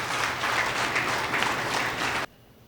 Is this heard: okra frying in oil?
no